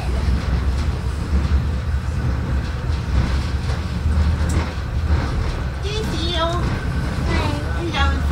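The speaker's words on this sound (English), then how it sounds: "Lots of trains." Trains rumble and roll through a rail yard heard from aboard a caboose, a steady low-frequency drone throughout with brief squealing wheel or brake tones near the end.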